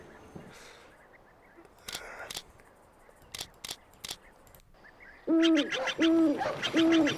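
An owl hoots in the video game Pony Express Rider: after scattered quiet clicks and brief sounds, a run of loud, close, repeated hoots sounds in quick succession.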